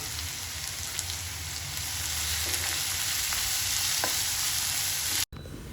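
Tomato and curry leaves sauté in a pan for a baby corn pepper fry, giving a steady, close sizzle with a few soft stirring clicks, ending in a brief break near the close.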